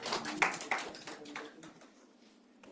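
Students clapping in a university classroom, a short, quiet burst of scattered applause that thins out and fades after about a second and a half.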